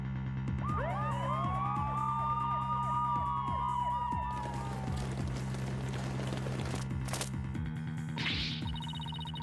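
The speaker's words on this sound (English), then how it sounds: "Mr. Wright, there are police cars outside. And not just one or two, but a whole bunch." Police car sirens in the Ace Attorney Spirit of Justice video game wail in layered, overlapping sweeping tones over a steady synthetic background hum, rising and falling for several seconds before fading, followed by a brief hiss.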